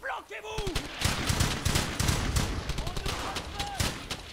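Gunfire in the World War II shooter Brothers In Arms: Hell's Highway, with rapid bursts of automatic and rifle shots in quick succession and a brief voice near the start.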